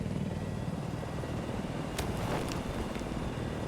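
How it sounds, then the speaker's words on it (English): Helicopter in Battlefield 4 on the Golmud Railway map: a steady, dense rotor and engine roar holds throughout, with a few brief sharp clicks or impacts in the middle, and no talk. "But Wonder Bamboo and Losco are up in the helicopter, and they're being passive."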